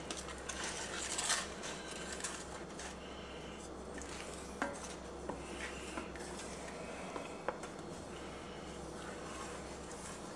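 A utensil stirs Cajun seasoning into smothered pork chops and gravy in a pan, with faint scraping and occasional light clinks against the cookware over a quiet background.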